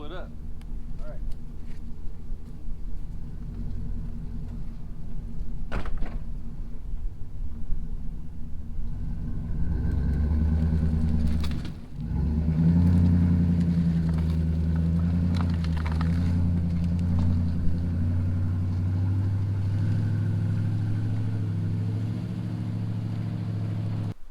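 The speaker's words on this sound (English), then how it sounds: "I want to get you guys some more action with this BH150 backhoe" A Branson BH150 backhoe attachment on a Branson 3015H tractor runs with a steady low diesel rumble, idling and then revving as it works on a homestead, with a person talking over it.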